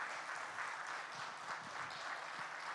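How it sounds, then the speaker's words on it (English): Applause from the audience in a hall at the Harmony Direct 2.0 launch event comes as fairly faint, continuous clapping from many hands, steady and slightly distant. "Can we have a round of applause for all the lovely people who are present here?"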